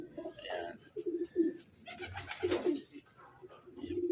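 Several racing pigeons coo softly and repeatedly at close range in short, rounded phrases, with faint rustling and a few chirps behind them.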